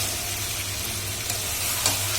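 Chicken with chili, cumin and coriander powder fries in a pan, a loud continuous sizzle close by with a faint clink of stirring near the end.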